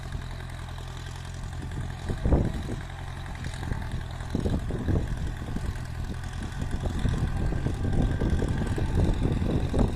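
A Ford 7740 tractor works a field at a steady rough drone, with occasional clattering bursts as it labours. It is heard from a moderate distance, with no talk.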